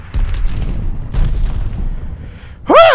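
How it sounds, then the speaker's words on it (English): A bomb detonates in the Call of Duty: Vanguard multiplayer game, delivering a pair of deep, rumbling booms that muddy the low end, followed near the end by a sharp bright sound effect. "Yes, it was just a bomb."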